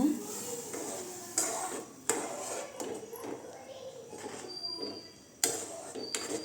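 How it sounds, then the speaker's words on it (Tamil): Metal spoon scrapes and clinks against a pot in irregular strokes while stirring wheat semolina into boiling water for upma, with a soft sizzle underneath. "இப்போ ரவை சேர்த்துக்கலாங்க"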